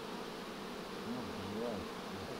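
Honeybees at an apiary hive in a swarming state give off a steady, fairly faint hum, with a few wavering buzz tones rising and falling as individual bees pass close by.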